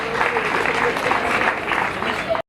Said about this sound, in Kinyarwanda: Ndabagore mubakomera amashyi menshi cyane.